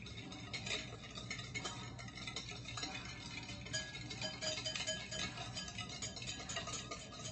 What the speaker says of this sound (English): So we're going to whisk this together.